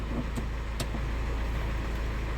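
A 2008 Hyundai Tucson engine running just after starting, a steady low idle drone close by, with a couple of faint clicks and no talking.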